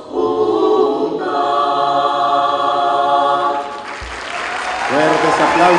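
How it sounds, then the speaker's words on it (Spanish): Loud applause from the crowd at a 2013 UCA postgraduate graduation ceremony rises and swells, mixed with prominent sustained musical tones, loudest near the end. "Fuertes aplausos."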